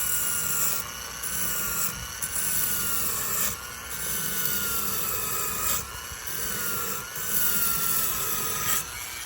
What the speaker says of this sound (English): then you use the grinder, that half-inch belt sander